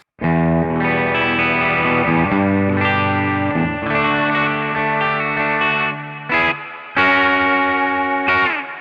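An electric guitar through a Valeton GP-50 Twin Reverb amp model plays shimmering chords and notes with a lush, clean, chorus-like tone and trailing echo, loud and alone.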